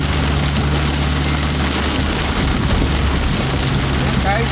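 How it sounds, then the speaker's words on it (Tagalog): Heavy rain pours steadily and loudly around a vehicle on the road to Puerto Azul, a dense unbroken wash of drumming drops with a low engine rumble beneath. "Napakalakas talaga ng ulan."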